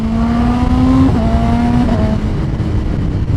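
Ducati Panigale V4 or BMW S1000RR sport motorcycle with an aftermarket exhaust, revving inside a tunnel: a loud, close roar with rising and stepping engine pitch as it shifts, then easing off, with no speech.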